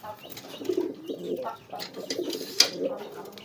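A domestic pigeon gives low, soft cooing phrases, repeated close by in a quiet, murmuring rhythm.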